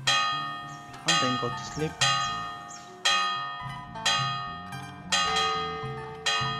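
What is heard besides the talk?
bell ringing in a medieval RPG video game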